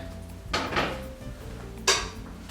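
A crockpot is moved across a kitchen onto the stove, giving two clattering knocks of cookware against the surface with a steady background hum and no talking.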